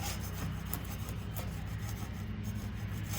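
Softened, heat-gunned paint is scraped off wood for porch decor, producing a close, continuous rough rubbing and rasping that holds steady with no pauses.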